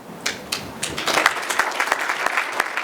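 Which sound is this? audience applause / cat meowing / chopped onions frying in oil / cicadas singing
audience applause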